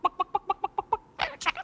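In a talking-parrot act on a Las Vegas stage, a voice imitates a chicken with a quick, even run of sharp clucks, then breaks into a few louder, squawking calls at close range.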